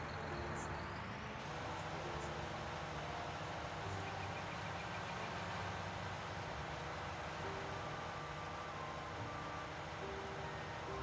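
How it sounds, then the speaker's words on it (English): Steady, low tractor engine idle in a farming video game, a continuous even rumble that runs throughout at moderate level with no talking. "We'll probably help if I start the engine."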